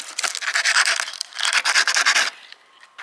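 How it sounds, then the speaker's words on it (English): Steady hand-sanding strokes on wooden furniture rasp back and forth in quick bursts, a pause in the middle, then the scraping resumes before fading to near quiet. "and then I'm just sanding it out"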